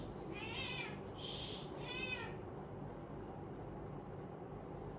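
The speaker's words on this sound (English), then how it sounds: "sorry, it was my cat" A house cat gives two drawn-out meows close by in a quiet room, then falls silent against faint background noise.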